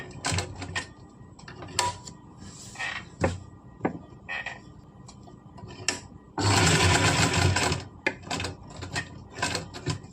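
A sewing machine stitches the placket fabric of a collar-neck kurti in a loud, steady two-second run. Scattered close clicks and fabric handling come before and after the burst.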